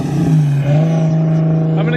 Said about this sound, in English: so you guys can get an idea of how loud this car is